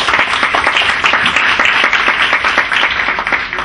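Audience applause at a panel discussion on art collecting: steady, dense clapping from a room full of people, continuous and fairly loud throughout with no voices over it.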